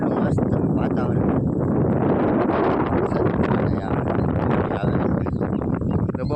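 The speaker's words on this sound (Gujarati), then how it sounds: "પવન એ બહુ મસ્ત આવે છે, એક નંબર પવન આવે છે." Strong wind buffeting outdoors at a cotton field in rural Gujarat, a continuous loud rushing roar across the microphone with no pause.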